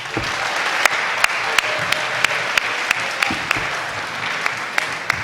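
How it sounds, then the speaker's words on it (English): Audience applause for panelists at a career day session: a steady wash of clapping with a few sharper individual claps standing out near the listener, continuous throughout. "let's offer a round of applause to our panelists"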